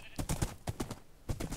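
Horse hooves clip-clopping in Minecraft, a quick run of hard, close hoofbeats in uneven bursts, with a brief pause before the steps resume.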